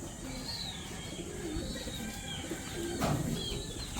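Pigeons coo softly among the chicken egg-laying nests, the low murmuring calls fairly faint and steady against a background hiss, with slightly louder coos near the end.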